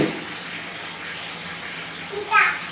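Water splashing in a basin as a child is bathed, a soft continuous wash of water with a brief louder splash near the end; voices are heard faintly behind it.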